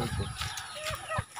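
A native Bisaya gamecock clucks close by in a short burst of throaty calls over faint background noise.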